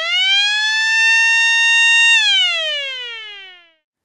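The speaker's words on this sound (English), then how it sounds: "Tone 2 is a high-frequency mechanical siren." A Hootronic high-frequency mechanical siren holds a loud, shrill, steady wail, then drops in pitch as it winds down to silence, with no other sound.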